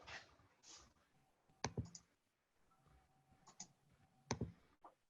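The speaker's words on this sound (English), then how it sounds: "Someone's clicking a lot." Repeated computer mouse clicks during an online card game session: a few sharp, quiet clicks in scattered pairs, close by over a faint background hush.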